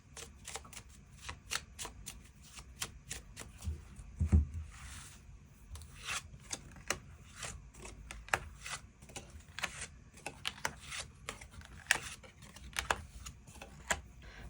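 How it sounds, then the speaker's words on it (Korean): Tarot cards are shuffled and drawn in a quiet room, with a long run of soft, rapid riffling and sliding card sounds and occasional taps, close and faint, with no talk over them. "추가 카드로 일별로 월요일부터 일요일까지 어떤 하루를 보내게 될지 추가 카드 뽑아보도록 하겠습니다"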